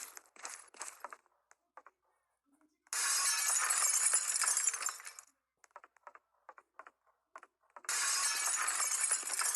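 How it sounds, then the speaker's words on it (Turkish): Windows being smashed in Roblox Hello Neighbor, a video game: two loud, sustained bursts of shattering glass, separated by scattered light clicks and brief quiet gaps. "Bizim komşunun bütün camlarını kıracağım."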